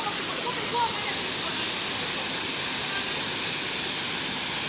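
River water flows steadily at the Portland river in Jamaica, a constant broad rushing hiss close by that fills the whole stretch without a break.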